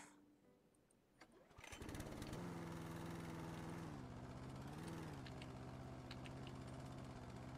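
A lawn mower engine in the video game House Flipper Garden sputters, catches after a sharp start around the second mark, then settles into a loud, steady drone with a brief pitch dip partway through.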